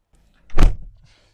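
One solid car door of a 1989 Mercedes 124 300E shuts with a heavy, muffled thunk, close by, followed by quiet.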